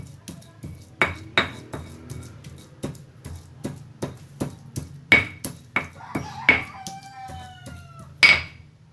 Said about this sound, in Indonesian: ini yang sedang saya haluskan, bawang merah, bawang putih, dan sedikit jahe